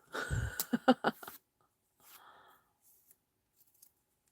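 Card being cut with scissors for card making produces a quick cluster of crisp, close snips, followed by a few faint rustles and small clicks in near silence.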